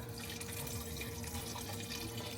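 Water pours steadily into a cooking pot on the stove for a pot of beans, giving a continuous, even splashing rush that stays close and moderately quiet for the whole stretch.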